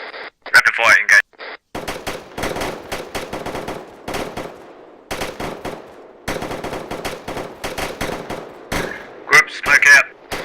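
Rapid bursts of automatic gunfire ring out again and again in a military video game training session, loud and close. Voices talk over the shooting throughout.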